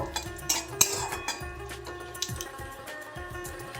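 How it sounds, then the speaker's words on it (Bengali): Panch phoron spices and a bay leaf are stirred in a pan, with light metallic scraping and clinks of a utensil over a soft sizzle, close and fairly quiet. "এবার প্রথমেই দেব পাঁচ ফোড়ন আর তেজপাতাটা একটু নেড়ে নেব"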